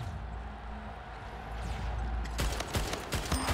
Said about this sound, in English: He's shooting at somebody.